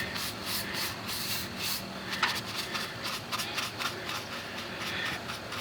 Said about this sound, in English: Just thin coats, brush it in real good